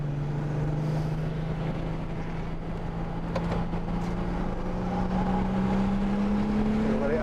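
An Audi A5 3.0 TDI quattro is driven at Donington Park, with a steady diesel engine drone rising slowly in pitch as it accelerates, heard from inside the car, loud and continuous with a few faint clicks.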